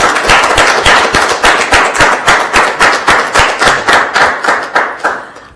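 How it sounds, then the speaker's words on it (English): A school audience claps in a loud, strongly rhythmic unison beat, sharp, evenly spaced claps close by, roughly three to four per second, tapering off at the end. "You can go ahead and clap."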